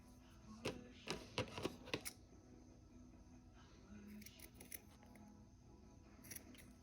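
Scissors cutting a piece of material at a desk, a quick cluster of close snips followed by softer handling rustles and a few faint later clicks, quiet overall.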